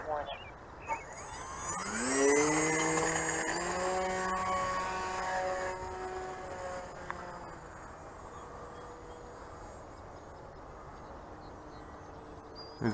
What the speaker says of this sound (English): we shall start with the mini Cessna that has just been upgraded to 3S